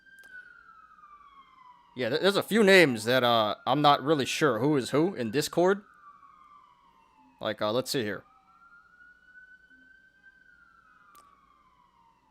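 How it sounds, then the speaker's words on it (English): Emergency vehicle siren wailing steadily outside, rising and falling across the whole stretch at moderate level, with someone talking over it in bursts. "My apologies about the siren"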